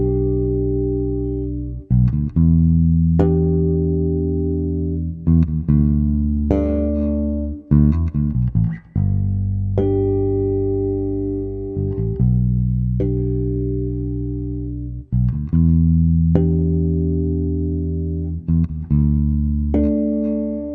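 Solo bass guitar plays a four-bar harmonic bass line: a steady sequence of plucked, sustained notes and shimmering harmonics, close and loud throughout, with no speech.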